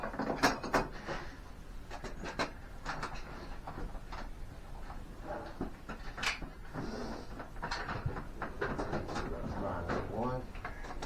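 A ratchet tightens 9/16 body bolts on a 1997 Polaris Sportsman 400 4x4 ATV, making close, fast clicking bursts mixed with metal clinks and handling noise, while a person talks intermittently.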